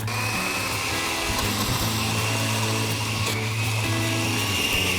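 A blender grinds ingredients during leg of lamb preparation, its loud motor whirring continuously and close for the whole stretch without clear breaks.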